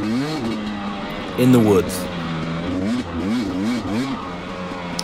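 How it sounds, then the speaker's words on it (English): A lightweight two-stroke dirt bike rides through the woods, its engine revving up and down in rising and falling bursts with a louder surge near the middle, while someone talks over it throughout. "Nothing like being on a lightweight two-stroke, just shredding some gnar"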